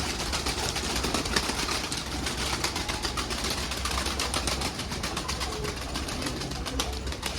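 A caught runaway pigeon coos in low, repeated notes close by, set against a constant hum that sounds like a nearby engine idling.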